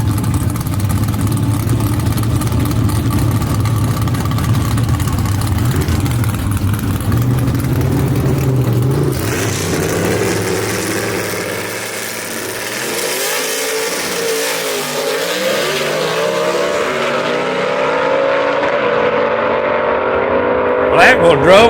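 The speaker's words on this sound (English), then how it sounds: "Mike Blackwell, Thunderstruck, number 8 qualifier, going against Todd Napier" Gasser drag race cars at Shadyside Dragway, loud engines roaring and revving hard down the strip, the pitch climbing and sweeping as the cars pass and fade, with an announcer's voice over the noise.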